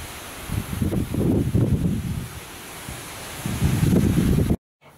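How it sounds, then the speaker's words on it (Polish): Strong outdoor wind gusts buffet the microphone in a deep, rumbling roar that swells and eases in waves, then cuts off abruptly near the end. "Wiatr się zerwał jeszcze większy."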